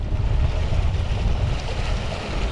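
A powerful kayak motor drives a Shearwater kayak fast through water, a loud steady rumble and rush of spray with wind buffeting the microphone throughout.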